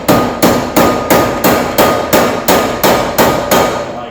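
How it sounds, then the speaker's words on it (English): A hammer flattening a bent sheet-metal edge on a Vega-era Chevrolet Monza restoration: eleven sharp, loud, evenly spaced metallic blows in a steady rhythm, each ringing briefly before the next, with no talking. "where's my hammer? Flatten this edge out."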